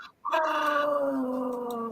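Puppies give a drawn-out, wavering howl with whimpering tones, starting after a brief pause and holding steady and fairly close for nearly two seconds.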